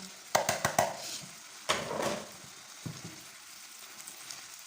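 Liver with onion and carrots sizzles in a frying pan, a steady close hiss broken by a few sharp clatters and scrapes as grated carrot is tipped in and stirred.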